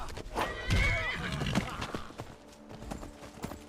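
A horse in the Skyrim video game lets out a loud, close whinny that rises and falls over about a second. Hoof clops and game sounds follow while someone speaks over it.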